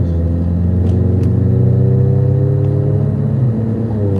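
Car engine revving steadily as a man tries to race, a loud, close mid-pitched drone that rises and holds with a rumbling low end for several seconds.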